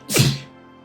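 A single sharp human sneeze bursts out near and loud, then fades quickly into quiet background.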